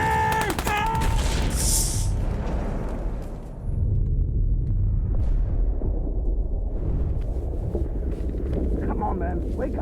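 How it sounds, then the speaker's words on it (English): A grenade blast in a music video comes as a loud, rumbling battlefield roar of wind-like noise and explosive rumble. Shouting voices sit under it, and the din dips briefly midway. "Grenade!"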